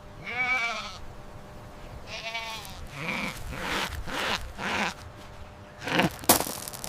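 A goat bleats in several wavering, nasal cries spread across a few seconds, each call loud and close with short pauses between, alone without any talking.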